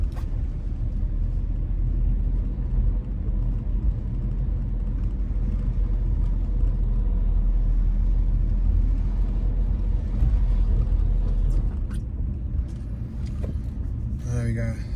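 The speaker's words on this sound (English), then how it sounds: "We got traffic here." Street traffic in Philadelphia's Oxford Circle neighborhood heard from inside a moving car, a continuous low rumble of engines and road noise with a voice talking over it.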